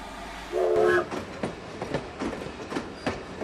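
A train running on rails, opening with a short horn blast and then a rhythmic clickety-clack of wheels over track joints, steady and fairly close, with no voices.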